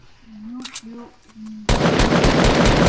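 Gunfire erupts in a video game, a sudden loud burst of rapid shots that cuts in after a short stretch of speech-like tones and keeps hammering to the end.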